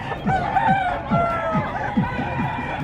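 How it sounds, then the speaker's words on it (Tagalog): Fighting roosters at a busy pet market crow and cluck repeatedly, several birds overlapping with short rhythmic clucks and drawn-out crows, set against a low crowd murmur. "mga panabong na manok o"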